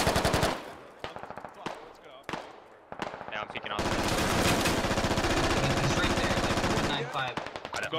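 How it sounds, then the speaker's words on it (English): Rapid automatic gunfire and single shots in the tactical video game Squad, bursts of sharp reports with a long sustained volley, loud and close, mixed with occasional talk. "Rounds coming in."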